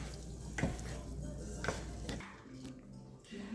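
Ground beef casserole with mixed vegetables stirred in a pot, a few soft scrapes and clinks of a utensil at a steady pace over low cooking hiss, fairly faint and without talk.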